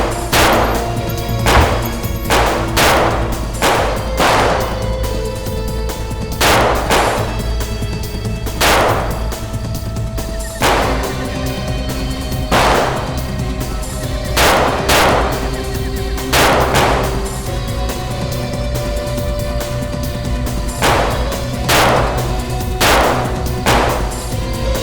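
Gunshots ring out in a staged action scene, a dozen or more loud sharp cracks in irregular bursts over a steady droning music bed.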